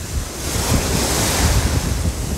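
Rough sea surf crashing and churning continuously, loud and close, with wind buffeting the microphone throughout.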